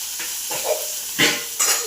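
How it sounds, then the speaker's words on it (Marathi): Okra sautés in a pan with garlic, salt, turmeric and green chili, giving a soft sizzle broken by a few short scraping stirs of a utensil against the pan. "5 मिनिट अशी वापरून घेते आता मी."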